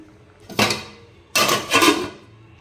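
A pot lid clanks down twice onto a pot of chicken cooking in oil for a chicken and fenugreek-leaf gravy, two close metallic clatters with a brief pause between.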